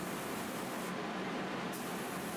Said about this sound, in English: Here I'm doing some scuff sanding before spraying the next three layers.